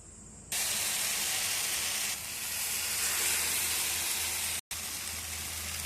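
Fish sizzles loudly in hot coconut oil on a tawa for a Mangalore masala fish fry, a sudden burst of dense steady frying hiss that continues throughout with one brief dropout.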